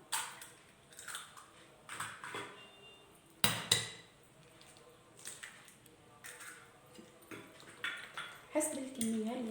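Eggs being mixed into a broccoli batter in a bowl, with repeated clinks and scrapes of a utensil against the dish in an uneven rhythm, close and clear, with a few brief sharp knocks.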